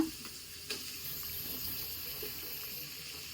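Tomatoes drop into a hot pan for mutton liver gravy, a faint steady sizzle with a soft splash at the start and a small knock, close but quiet, no voices.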